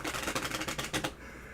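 Tarot cards are shuffled in quick riffling bursts, a dense run of crisp flicks for about a second before falling quiet, faint and close.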